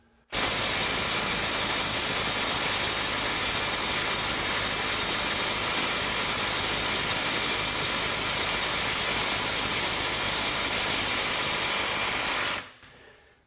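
A cordless impact wrench rated over 500 ft-lbs hammers steadily on a fastener, a dense continuous rattling buzz held loud and close for about twelve seconds before cutting off abruptly.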